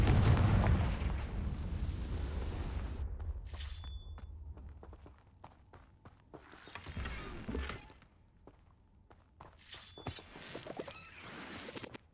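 Confringo fire spells from Hogwarts Legacy burst in a series of sharp, explosive cracks and booms, the first heavy blast followed by several fainter bursts spaced across the stretch, with no talk.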